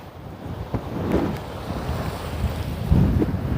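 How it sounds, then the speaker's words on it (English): Wind buffets the microphone in rumbling, gusty bursts at the Toronto beaches waterfront, with a low roar swelling and easing throughout and no one speaking. "And it's a little windy down here."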